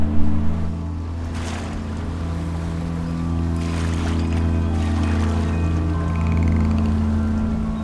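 A ship's engine drones at sea off Samothraki, Greece, a steady low hum with tonal layers over wind and water rush, continuous and fairly close throughout.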